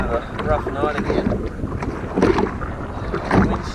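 Steady wind noise carried through the hull of a small fishing boat on a rough night, a continuous rushing roar with swelling gusts and creaks, close and loud.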